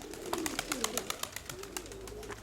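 Pigeons coo softly in a loft, with low burbling calls repeating close by and quick rustles and taps mixed in, fairly quiet overall.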